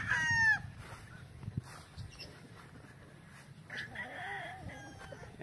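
A young gamecock (bullstag) in a backyard poultry yard lets out a loud, close crow at the start, followed by softer scattered clucks and a fainter distant crow amid light outdoor noise.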